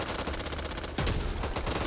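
Rapid automatic gunfire rattles in Back 4 Blood, a steady stream of shots with a heavier, louder burst joining halfway through the short stretch.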